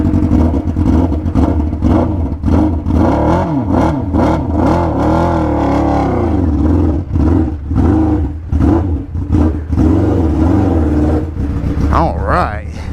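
A 600cc go-kart engine revs loudly and continuously on its first drive, rising and falling in pitch close up, with people talking over it.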